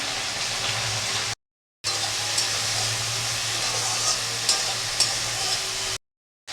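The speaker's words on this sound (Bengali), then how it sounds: "একটু তেলের উপর একটু নাড়িয়ে নেবো আর কি ডাঁটাটা" Drumstick (moringa) pieces stirred in hot oil, giving a continuous soft sizzle with occasional scraping as they are moved, broken by two short dropouts.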